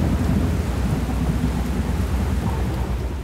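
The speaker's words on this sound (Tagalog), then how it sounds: "Sunod na bumuhos ang malakas na ulan." Heavy rain pours steadily in a dense, loud wash with deep rumbling thunder rolling underneath throughout, no voices present, during a storm over rough sea.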